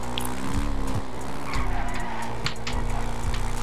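A car in the GTA RP game revs hard and skids, engine drone pulsing with short tire squeals and scrapes, loud and close, without talk.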